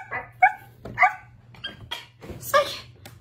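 Puppies yip and bark in a quick series of short, high, nasal bursts, about half a dozen spread over a few seconds, fairly close and clear over a low background hum, with no talking.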